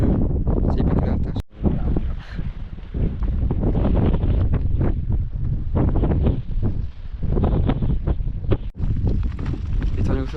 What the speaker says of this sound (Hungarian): itt ilyen mínusz 10 fokos szelek vannak